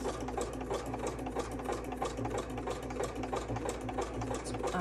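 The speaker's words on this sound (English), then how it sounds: "Sewing machine sounds loud when you're sewing over paper." A sewing machine zigzag-stitching fabric over paper runs steadily and loudly, its needle clattering in a rapid, even rhythm with a low mechanical hum underneath.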